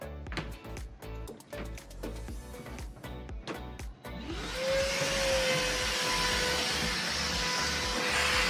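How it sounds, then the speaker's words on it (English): A vacuum cleaner starts up and runs steadily with a loud whine, sucking up debris from drilling a door latch hole, after a few seconds of clunks and handling knocks. "we better get the vacuum and clean all this stuff up"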